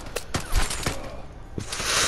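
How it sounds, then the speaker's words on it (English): Scattered gunfire in the shooter game Vigor, several sharp cracks spaced irregularly over a couple of seconds, some sounding distant, with a swelling rush of noise at the end. "there's some gunfire over here"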